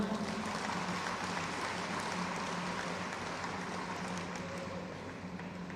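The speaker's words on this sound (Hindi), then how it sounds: "एक बार जोरदार तालियां" A crowd at a Khelo India sports ceremony in Rajasthan claps in a steady, dense wash of applause that carries on at even loudness for the whole stretch, no voices on top.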